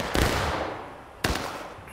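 Two sharp pistol-like gunshots ring out in a Civil War battle video game, about a second apart, each a sudden crack followed by a fading echoing tail.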